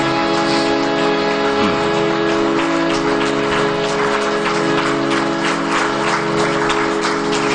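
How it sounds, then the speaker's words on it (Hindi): A standing audience at a yoga session in Nashik claps to welcome a guru. The applause is loud, dense and continuous, filling the whole stretch without a break. "जोरदार तालियों के साथ में राज राजेश्वर गुरु जी का स्वागत खड़े होकर के करेंगे सबके साथ"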